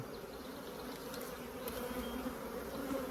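Honey bees buzz continuously and densely around an opened hive during an early spring inspection, a steady, close hum with no voices.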